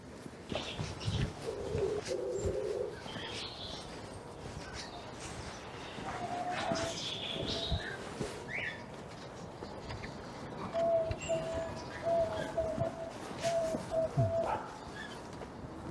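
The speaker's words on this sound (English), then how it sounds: "Budgies, parrots," Birds in an aviary of budgies, parrots and cockatiels give soft coos and scattered chirps over quiet outdoor background, moderately near, with no talk.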